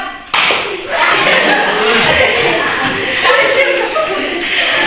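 A classroom of students claps along to a rhythmic clapping chant, with dense, crowd-like rapid claps and shuffling that start abruptly and continue steadily and loudly nearby, mixed with voices.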